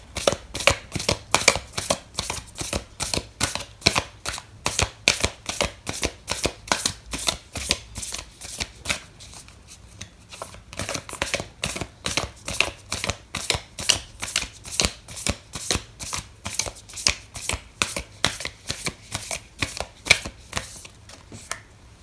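Oracle cards are shuffled by hand during a tarot reading, a fast, regular run of crisp riffling snaps heard up close for about twenty seconds, briefly softening midway, with no voice.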